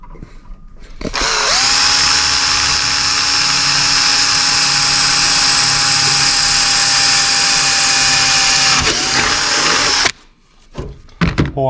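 A power drill runs loud and close in one long steady whine, boring holes through FibreWorx Mugen fiberglass vented wings on a Honda Civic FN2 Type R, with shuffling before and clatter after it stops.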